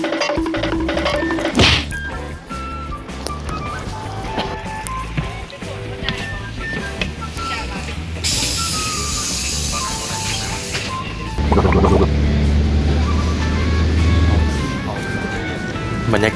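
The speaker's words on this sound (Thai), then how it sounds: "บรรยากาศรถเมล์สิประมาณนี้" Inside a city bus in freezing weather around minus twelve or thirteen degrees, a low engine rumble runs beneath hissing air bursts and occasional thuds, with faint voices in the background.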